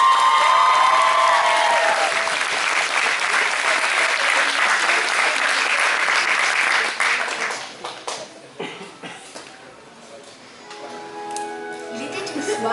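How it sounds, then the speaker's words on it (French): Enthusiastic audience applause with some cheering at a cosplay contest in Dijon, loud and sustained for several seconds before fading into scattered claps and quieter crowd noise. "On l'applaudit bien fort."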